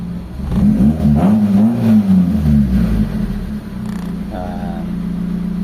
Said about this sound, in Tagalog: I-start ulit natin, tingnan natin kung mag-1 click start na siya.